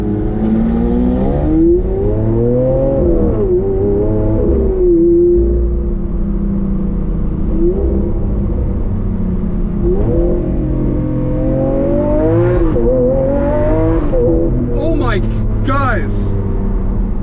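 Lamborghini Aventador SV engine revving hard and rising through the gears, heard from the cabin as a loud, continuous roar with pitch sweeps at each shift, with someone talking excitedly over it.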